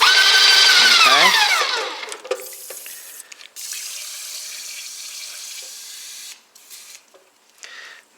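An airless spray gun tip, used with oil-based paint, is rinsed under running water. A voice speaks briefly first, then a steady nearby hiss of flowing water runs for several seconds before cutting off into small clatters.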